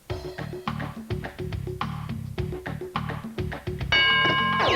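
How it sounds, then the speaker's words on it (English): A rapid run of repeated electronic chimes from a game show bell on Catchphrase rings out in a steady rhythm, ending in a sustained bright tone, loud and close. "There's the bell."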